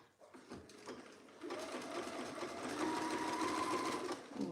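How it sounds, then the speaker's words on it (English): A sewing machine runs steadily, zigzag stitching the straight edges of viscose fabric for a dress, its close mechanical whir starting and stopping briefly before a continuous run. "we're just going to overlock or zigzag stitch those straight edges so that we can then press those seams open"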